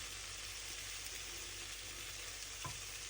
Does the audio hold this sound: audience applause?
no